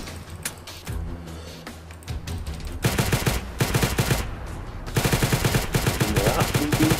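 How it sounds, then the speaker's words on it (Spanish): Gunfire from a Minecraft weapons mod, starting with scattered single shots and then breaking into loud, rapid bursts of automatic fire that continue with short pauses, all close and dense. "vamos a seguir disparando"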